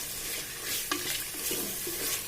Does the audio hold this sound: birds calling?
no